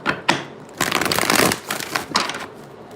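Tarot cards shuffled by hand in irregular bursts of riffling and sliding, a couple of sharp snaps followed by longer rustling stretches, close and fairly loud with no talking.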